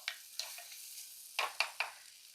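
Shallots and kanthari chillies sauté with a pinch of salt in a pan for a gooseberry curry. Soft frying hiss runs under about six short scraping stirs, quiet and close.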